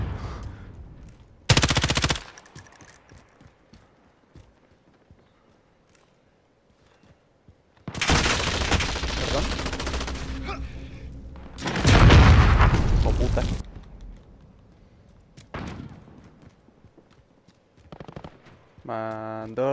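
Call of Duty Modern Warfare gunfire comes in sharp bursts: a short loud crack early, then two long heavy volleys of automatic fire with booming impacts, separated by quiet stretches, with a faint clicking burst at the end.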